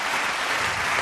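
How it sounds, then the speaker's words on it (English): A short burst of dense, steady clapping from many hands, close and loud with no pauses. "He's clapping at you."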